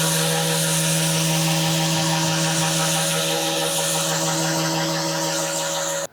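A power sander works over wood with 120-grit paper, giving a loud, continuous motor whine with a steady droning pitch that cuts off abruptly at the end.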